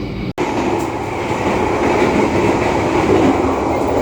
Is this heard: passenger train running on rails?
yes